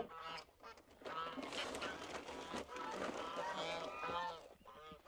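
Geese honking repeatedly at a morning feeding on a farm raising many animals, the calls close and overlapping in quick bursts, with a few other fowl sounds mixed in.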